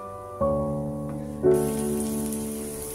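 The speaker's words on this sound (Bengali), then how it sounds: "এইভাবে আমরা পরোটাটা ভেজে নেব।" A mixed vegetable paratha fries in a pan, a steady hissing sizzle that swells louder partway through, heard under background music with no talk.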